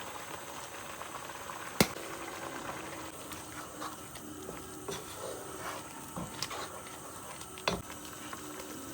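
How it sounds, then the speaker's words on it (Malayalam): Paneer mattar masala gravy simmering in a pan: a faint, steady bubbling and soft sizzle with occasional small pops and clicks. "ഇത് നിങ്ങൾക്ക് ഇനി ആവശ്യത്തിന് നിങ്ങളുടെ ഗ്രേവി അനുസരിച്ച് തിളപ്പിച്ച് വറ്റിച്ചെടുക്കുക"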